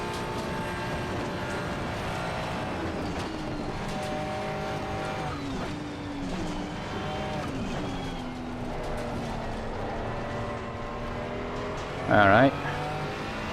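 A McLaren Artura race car laps the Nürburgring Nordschleife, its engine note rising and falling through gear changes under onboard cabin noise, with a brief loud burst late on and a short spoken remark.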